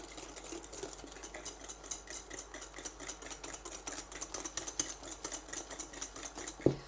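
Rapid, steady scraping and clinking of a utensil stirring a mixture in a bowl, close and continuous, with a sharper knock near the end.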